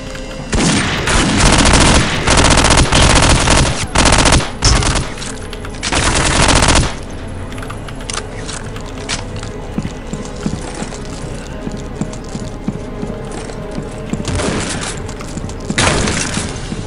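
Rapid automatic gunfire and scattered shots from the video game Soldier of Fortune 2, loud and dense in long bursts at first, then thinning to sporadic cracks and mechanical clatter over a low background.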